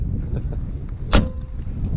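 A Porsche 911 of the 993 generation has its car door shut: one solid, muffled thud in the middle, set against a steady low background rumble.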